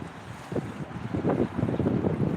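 Wind blowing outdoors at night, a steady rushing buffet against the microphone with gusty swells that grow louder toward the end, no voices.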